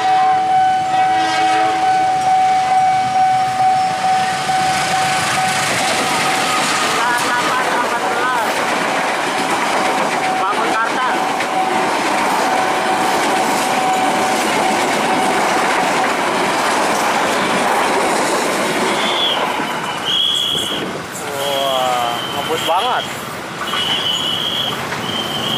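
A commuter train speeds through the JPL 46 level crossing on Jalan KH. Ahmad Dahlan near Pondok Jati station in East Jakarta, its loud wheel rumble and clatter continuous, with a sustained horn tone, chiming crossing bells near the end, and people talking over it.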